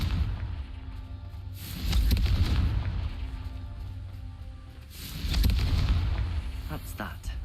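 A Confringo explosion spell in Hogwarts Legacy goes off as two booming blasts with rumbling decay, the second arriving a few seconds after the first, over a low background of game ambience.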